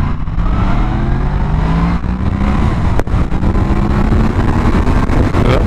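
A Yamaha MT10 motorcycle pulls hard under acceleration, its engine note climbing in pitch through the gears, loud and close with wind rush around it.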